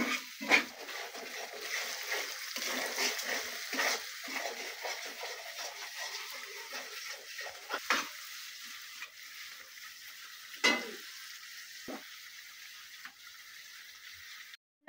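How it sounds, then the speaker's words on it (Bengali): Spices frying with tomatoes and cooked-down onions in a pan, a quiet, close sizzle broken by intermittent spatula scrapes and occasional sharper clacks. "ভালো করে ভেজে নেব মশলাগুলোকে। পেঁয়াজ কষানো হয়ে গেছে, টমেটো দিয়ে দিলাম"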